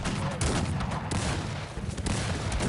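Cannon and musket fire rattle through a battle in the strategy video game Cossacks 3, with dense overlapping volleys and booms that crackle continuously without pause.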